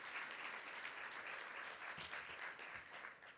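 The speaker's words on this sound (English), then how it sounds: "we want to give Gary a tremendous round of applause" A keynote audience at CES 2020 applauds steadily for an honoree, dense hall-wide clapping heard at a distance, even and unbroken through the short stretch.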